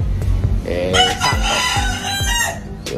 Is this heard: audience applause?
no